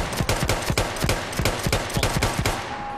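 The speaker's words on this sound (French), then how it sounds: "le gars me tire à travers le mur" Rapid automatic gunfire from a Battlefield 1 match, a steady stream of sharp close shots at a quick even rhythm lasting about two and a half seconds, loud and dominant before it cuts off.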